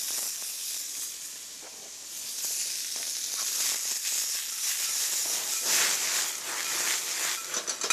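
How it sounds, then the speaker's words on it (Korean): Bean sprouts stir-fried fast in hot oil over high heat in a pan, a loud, steady close sizzle and hiss that swells as the sprouts are tossed. "오일을 두르시고 이제 콩나물을 아주 강한 불에 빨리 볶아 주셔야 됩니다."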